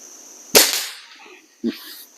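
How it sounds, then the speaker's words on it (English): A Diana 250 air rifle fires one sharp crack downrange at 25 yards, followed a second later by a duller impact-like thud. "Let's get shot number 1 down the range."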